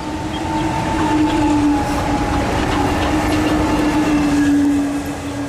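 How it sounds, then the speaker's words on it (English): A Medellín metro train rolls past on elevated tracks, a loud, continuous rumble with a steady whining hum and faint clatter that holds throughout, no voices over it. "There goes the train, metro."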